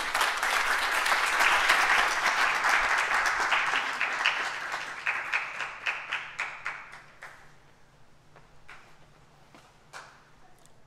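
An audience claps loudly after a three-minute thesis competition talk, a dense burst of applause that thins into scattered single claps and fades away.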